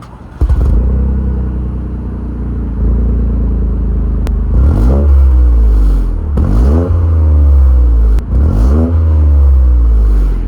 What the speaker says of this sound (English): here's a quick startup of the vehicle and a few revs, just so you know how it sounds